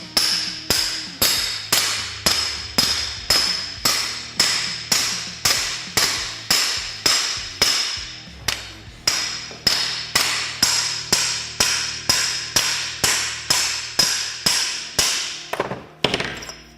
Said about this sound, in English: we'll just tap it right on.